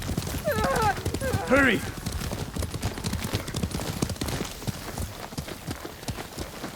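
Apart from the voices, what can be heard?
horse galloping, from the video game Ghost of Tsushima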